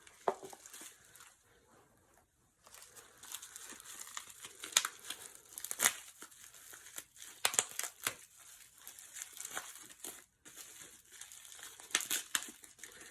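Crinkly wrapping and tape on an art supply package crackle and tear in irregular bursts as it is unboxed, close and fairly loud, with short pauses between handlings.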